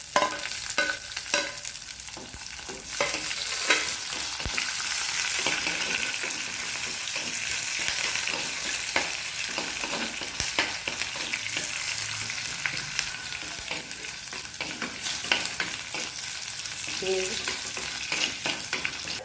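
Crushed garlic and ginger fry steadily in hot oil for rasam, a continuous close sizzle with scattered stirring scrapes and taps.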